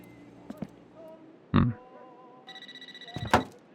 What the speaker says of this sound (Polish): Który telefon dzwoni?